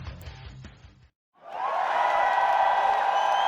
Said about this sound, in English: as you can probably tell from the sound of the applause